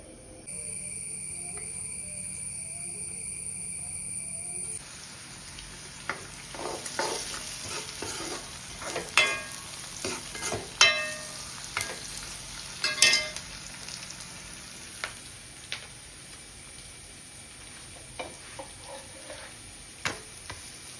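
Gentle sizzling from a pan runs throughout, punctuated by irregular scraping and clinking as food is stirred, with a steady background hum.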